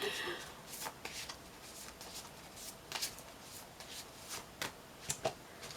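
Tarot cards shuffled by hand in a series of quick riffling bursts and soft papery flutters, close and fairly quiet, with irregular pauses between them.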